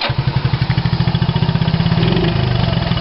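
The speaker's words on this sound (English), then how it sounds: "Listen to that idle." A custom modified Honda 125 motorcycle idles with its exhaust removed, a loud, close, rapid even chugging pulse that runs steadily with no voices.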